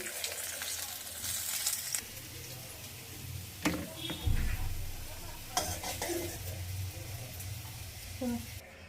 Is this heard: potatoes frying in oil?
yes